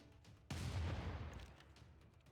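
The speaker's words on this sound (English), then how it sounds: "First, bombard it." A city bombardment in the Civilization 6 video game: a single sharp blast of artillery fire hits mid-clip and rolls into a rumbling, fading decay, alone and fairly loud.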